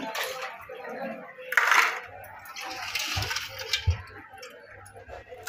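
Cleaned crabs being washed in a basin of water give off irregular sloshing splashes and light knocks of shells, close by and uneven, with faint voices in the background.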